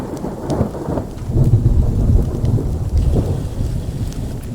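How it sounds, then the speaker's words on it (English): A thunderstorm in the Outlaws of the Old West video game, with steady heavy rain and a deep rolling rumble of close thunder swelling and fading throughout. "Whoa! That lightning was close."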